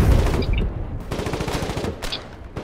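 Rapid gunfire in a World War II battle video game, a dense burst of overlapping shots and rattling automatic fire over a rumbling background, loud and continuous with no voices.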